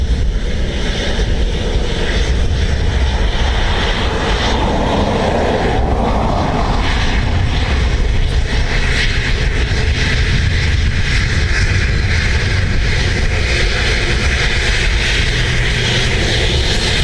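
Airbus A330 flight EI58 from Denver at Dublin Airport, a loud, steady roar of jet engines that holds without a break for the whole stretch.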